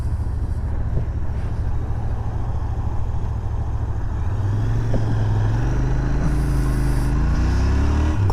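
A Royal Enfield Interceptor 650 twin motorcycle on a test ride, its engine a steady low drone under rushing wind, rising in pitch toward the end as it accelerates.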